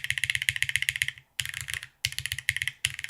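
Rapid keystrokes on a Keycult No. 2 TKL mechanical keyboard, including the arrow keys, come in close, crisp bursts with two brief pauses and no talking.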